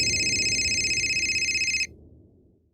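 A telephone rings loudly with a rapid trilling bell pattern over a low background hum, stopping abruptly partway through.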